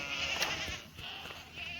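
A goat in a village setting gives short bleats over a steady background hum, with a few brief calls rising above a low rural murmur.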